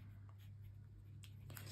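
A Kaweco Perkeo fountain pen, long filled with ink, writes on paper in faint, soft scratchy strokes over a steady low hum.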